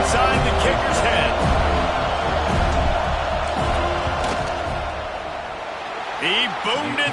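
Stadium crowd noise during a field goal attempt in the college football video game CFB 26, Virginia Tech at Florida State, a steady loud roar with scattered whistles and shouts under continuous commentary.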